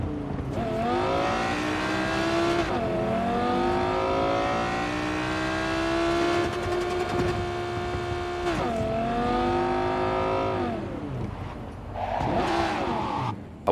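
Game car engine audio from Cyberpunk 2077 on a PS4 Pro drones and revs steadily throughout, the pitch sweeping up and down through gear changes, with a brief rough burst near the end, loud and without talk.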